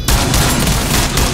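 Shotgun blasts in Rainbow Six Siege, a loud dense burst of gunfire filling the whole moment with no voices over it.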